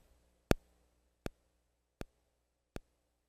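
Four crisp, evenly spaced default metronome clicks from an Akai MPC One, each a short bright tick, played alone against near silence.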